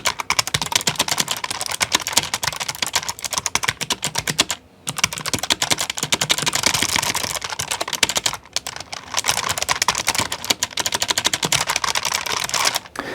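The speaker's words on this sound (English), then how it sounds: "It's clicky. Like I said, it's the clicky version," Rapid, continuous keystrokes clatter on a clicky-switch mechanical keyboard at a desk, crisp and close, with two brief pauses breaking the bursts of typing.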